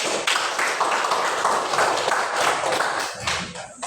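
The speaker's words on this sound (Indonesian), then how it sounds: "kita berikan tepuk tangan untuk kelompok 3" A classroom full of people clapping together for a presenting group, steady dense applause that holds for a few seconds before tapering off.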